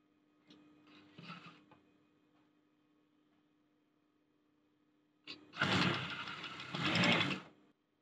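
Sewing machine stitching boys' school uniform shorts: a short, quieter run of stitching, a pause, then two louder, longer bursts of fast mechanical whirring up close.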